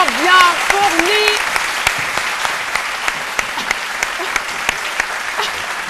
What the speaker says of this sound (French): on va la raccompagner avec des applaudissements bien fournis